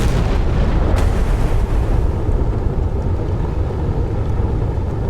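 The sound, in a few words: missile explosions in naval battle, video game Sea Power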